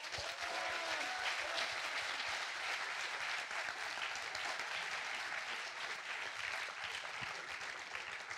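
Sustained applause from a conference audience after a keynote talk, dense and steady clapping filling the whole stretch without letup, with no voices rising above it.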